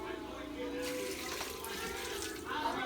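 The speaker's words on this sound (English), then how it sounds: "I'm adding 22 ounces of water." Water poured from a container into a pot of homemade chili with tomato paste, a steady splashing pour running for about three seconds up close, with a voice talking over part of it.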